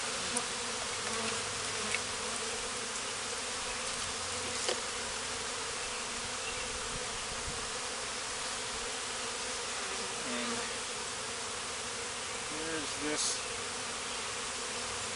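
Honeybees swarm around hive frames holding larvae and eggs during a Townsend cut-out, a dense, continuous close buzz that stays level throughout.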